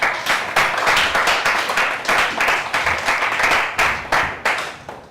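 An audience at a stand-up comedy show claps in scattered, uneven bursts, a loose patter of hand claps that swells and fades repeatedly without cheering.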